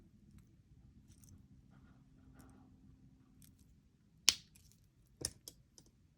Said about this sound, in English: Then I'm going to cut off the excess.